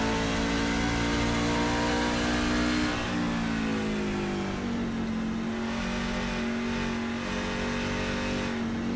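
Racing trucks roar around the track at Phoenix, loud sustained engine drone with rising and falling pitch as they accelerate and lift off the throttle into a turn.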